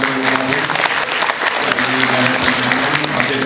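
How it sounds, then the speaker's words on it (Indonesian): Audience at a talk on healthcare problems applauds to welcome politician Priyo Budi Santoso, a loud, sustained burst of many hands clapping with a faint steady hum beneath. "kita tepuk tangan dulu nih, ada Pak Priyo Budi Santoso"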